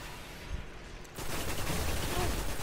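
Sustained auto rifle fire in a video game, a dense, continuous burst of rapid gunshots that swells louder partway through and runs to the end.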